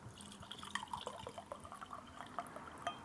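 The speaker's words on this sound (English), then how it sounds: "I'm going to pour another glass of wine" Chilean red wine poured from a bottle into a glass, a soft trickling liquid sound with small drips and glassy clinks, close by and quiet, no talking.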